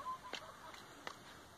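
Chicken on a small farm at morning, a few short faint clucks spaced irregularly over low background noise, distant and quiet.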